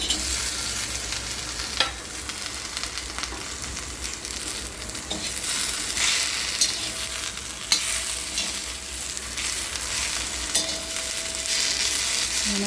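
Okra frying and being stirred in a pan, a steady close sizzle with occasional clinks and scrapes of the spatula, no talking.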